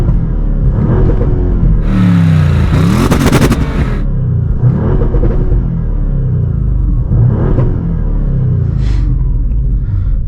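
An Audi RS6 with silencer deleted and exhaust valves open in dynamic mode, heard from the closed cabin: several loud, deep revs rising and falling, one long sharp blast early on, over a heavy low idle rumble.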